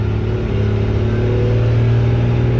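A stock second-generation Cummins 12-valve diesel pickup launches hard at about 20 PSI of boost, its engine a loud, steady low drone heard from close by with no talking.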